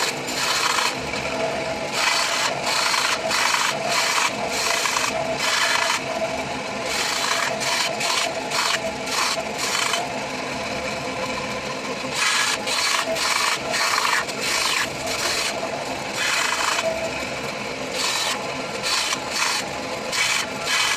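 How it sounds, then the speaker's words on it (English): Bandsaw slicing leftover colored cutoffs into small chunks for knife-handle casting, a steady rasping whir with repeated bursts of brighter cutting noise over about twenty seconds, loud and close with no talking. "So let's get to the bandsaw, cut these up"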